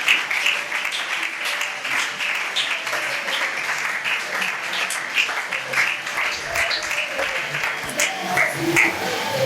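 A church congregation applauds during a French sermon, a steady, full round of clapping from many hands that fills the room and continues throughout.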